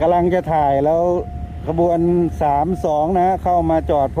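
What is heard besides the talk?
No everyday noises stand out.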